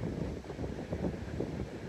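Wind buffets the microphone outdoors on Gran Canaria, a steady low rumbling roar with gusty swells that fills the whole clip, with no speech over it.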